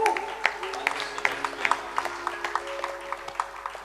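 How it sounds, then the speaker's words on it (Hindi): Scattered claps from a small crowd, a light, uneven patter of hands with a few sharper individual claps standing out. "इनके लिए जोरदार तालियां हो जाए"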